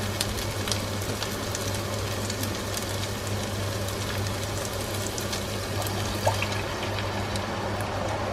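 Dairy milk poured into a hot pan during Alfredo chicken pasta cooking, giving a steady close trickling and sizzling wash that runs unbroken for the whole stretch with no talk.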